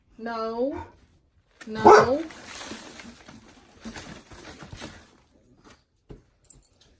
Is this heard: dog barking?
yes